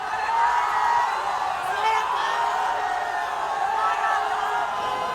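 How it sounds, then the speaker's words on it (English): Fans crowd outside Amitabh Bachchan's house in Bollywood on a Sunday, a loud, steady roar of many voices with scattered whoops and shouts throughout. "It's not just Shah Rukh Khan that generates this sort of a crowd."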